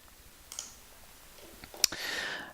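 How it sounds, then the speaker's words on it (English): A few faint, sharp computer mouse clicks sound in a quiet room while a PowerPoint presentation is being edited, with one crisper click standing out. "you hear my mouse clicking"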